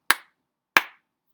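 Two sharp, close hand claps spaced evenly apart like two quarter notes, each a crisp isolated smack followed by silence.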